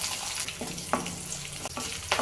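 Urad dal and green chillies fry in hot oil over medium flame, a close, constant sizzle with a few sharp spatula clicks and scrapes, without any talking.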